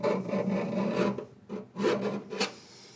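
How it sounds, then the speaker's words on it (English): A screwdriver scrapes plumber's putty during a drop-in sink install, making close rasping strokes in two or three bursts with short pauses between them. "don't use a knife, but you can use a screwdriver here"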